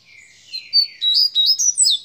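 A red-cowled cardinal in a cage sings a bright run of chirping, warbling phrases, close and loud, with no other sound around it.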